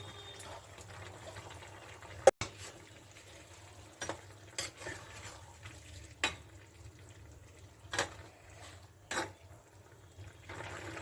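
Paneer cubes going into a pan for a paneer broccoli dish, a faint steady sizzle with a sharp clatter early and several soft stirring scrapes, no talk.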